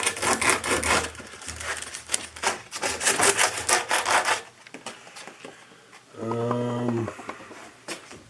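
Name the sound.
sanding a copper camera grip with low grit sandpaper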